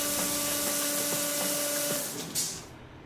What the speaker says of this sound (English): This is Shift plus Coolant, our high pressure coolant.